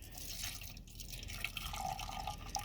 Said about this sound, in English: I'm going to pour it into our Coke can over here.